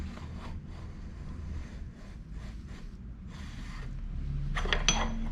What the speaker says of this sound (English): Let's remove the axle.